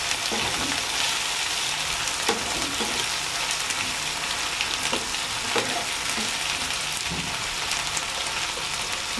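Ginger garlic paste frying with onions in a pan, a steady close sizzle with scattered crackles and spatters throughout, no talking.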